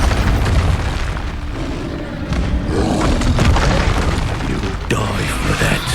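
Expulso spell blasts in Hogwarts Legacy, a loud, sustained booming explosion with rumbling roar and debris, dense and close for several seconds.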